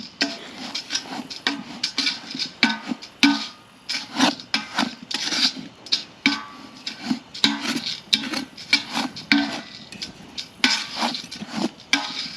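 Wax dirt for trapping being stirred in a small batch, a repeated gritty rasping and scraping that comes and goes in irregular strokes, close and fairly loud with no talk over it.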